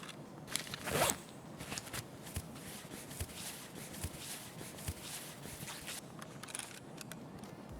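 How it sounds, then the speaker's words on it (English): An AFAK medkit in Escape From Tarkov is unzipped with a sharp zip near the start, followed by continuous soft rustling and scraping as the kit is handled. The sounds are quiet and close, with no speech. "it is that zip. That zip, I just don't like how it gives away where you're at."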